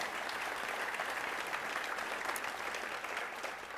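Applause rises from an audience at a city's State of the City event in Roseville, California, honoring a cafe that catered the food, a steady, fairly distant wash of many hands clapping without voices.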